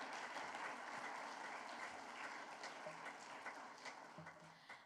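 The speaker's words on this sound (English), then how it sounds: "Applause to God." Audience applause at a ten-year anniversary celebration: a dense, steady wash of many hands clapping that holds throughout and tapers only slightly toward the end.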